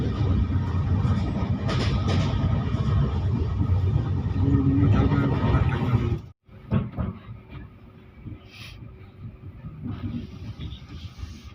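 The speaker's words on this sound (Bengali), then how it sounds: "ট্রেন পাস করছে এখন গৌরমাথা স্টেশন" Kaziranga Express train rolling through Gourmatha station: a loud, steady rumble of wheels and carriage noise that drops out abruptly for a moment, then resumes more quietly with lighter clatter.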